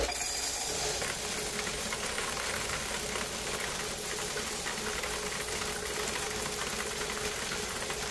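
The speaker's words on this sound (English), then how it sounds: "And I like this change counter too" A coin change counter runs steadily, sorting and counting laundromat quarters from the front washers with a continuous loud mechanical whir and rattle, close and unbroken with no talking.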